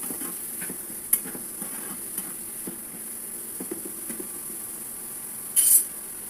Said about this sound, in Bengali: গুঁড়া মাছ, যতটুকু বাসায় ছিল আর কি। একটু নাড়াচাড়া করে দিচ্ছি।